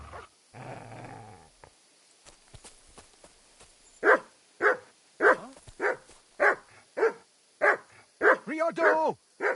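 A dog barks on command in a rapid run of about a dozen short, loud barks close by, after a brief voice and a few quieter sounds at the start.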